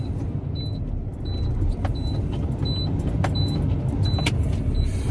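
A semi truck idles before dawn while building air pressure, a steady low diesel rumble with intermittent short high chirps and clicks above it.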